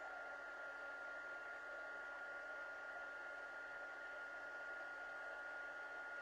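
A heat embossing tool blows hot air to melt embossing powder on a stamped card. It makes a steady, faint, hair-dryer-like whoosh that stays constant throughout, with no voices.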